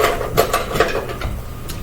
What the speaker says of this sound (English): And then I'm going to stir them up.